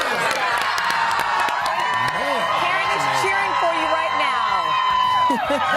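A large holiday crowd cheers and shouts loudly and continuously, with children's voices and whoops mixed in, while several people talk over the din close to the microphone.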